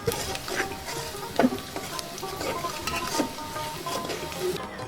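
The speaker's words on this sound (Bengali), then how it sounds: "তেলটা হওয়ার পরে এখন আমি পেঁয়াজ মরিচ দিচ্ছি।" Onions and chilies fry in hot oil for a beef curry, giving a steady close sizzle with scattered stirring scrapes and light spoon clinks.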